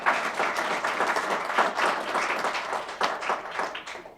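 Applause for a state champion school pom team at a Chandler school district governing board meeting, a steady, dense clapping from a full room that swells and dips across its length.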